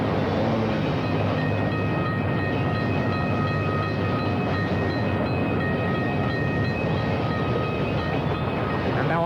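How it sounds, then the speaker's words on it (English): A train rumbles past nearby, a continuous loud roar of wheels on rails with faint squealing tones, sustained throughout without pause. "Here comes that train again."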